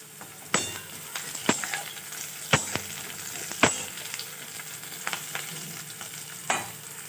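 Crushed garlic in a hot pan of oil, sizzling steadily while a utensil scrapes and stirs it in sharp, repeated strokes close by.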